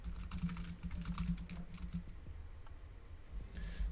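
Rapid, steady clicking of typing on a computer keyboard, fairly quiet and continuous with uneven key rhythm and a low background hum.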